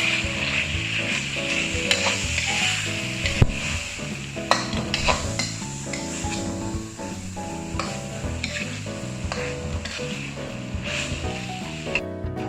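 Long beans and chicken stir-fried in a hot pan, with a steady loud sizzle and repeated scraping and tossing strokes of a spatula running throughout, close up and without speech.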